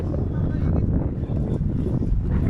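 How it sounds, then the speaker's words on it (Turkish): Steady wind rushing and buffeting the microphone by the sea, a constant broadband roar with low rumbling gusts and no clear talk. "Rüzgar var ama."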